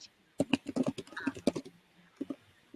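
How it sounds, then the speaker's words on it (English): Someone types on a computer keyboard nearby: quiet, irregular bursts of clicking keystrokes, some in quick runs and others spaced apart, with no talk over them. "try typing it in so that I'll read it out for you"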